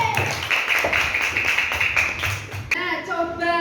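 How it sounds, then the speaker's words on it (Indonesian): Classroom applause for a primary school student in a second-grade Pancasila lesson: a dense patter of clapping for nearly three seconds, then it fades and a voice speaks clearly over the room. "Beri tepuk tangan untuk Mbak"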